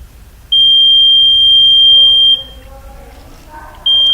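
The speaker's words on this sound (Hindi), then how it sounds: "जैसे ही हमारे सेंसर के ऊपर रेन ड्रॉप फॉल होते हैं, हमारा बजर साउंड प्रोड्यूस करना स्टार्ट हो जाएगा।" A rain alarm buzzer, set off by raindrops landing on its sensor, gives a loud, steady high-pitched electronic tone for about two seconds. It falls silent while a voice is faintly heard, then starts again.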